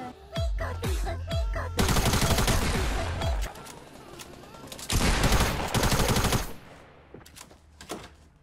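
Gunshots in the video game Fortnite, starting with a few spaced single shots and then two loud bursts of rapid automatic fire, before the firing fades into quieter trailing sounds.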